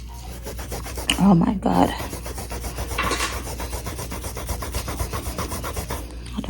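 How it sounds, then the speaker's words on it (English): Someone scrubbing an ink stain out of a surface in an apartment, with continuous rhythmic rubbing strokes close by, interrupted briefly by a short exclaimed remark. "I'm just gonna keep scrubbing until it comes out."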